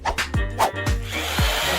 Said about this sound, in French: elle a une perceuse pour t'aider